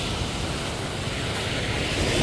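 Strong ocean waves at Balicasag Island, a continuous loud rushing wash of surf mixed with wind buffeting the microphone, swelling slightly toward the end.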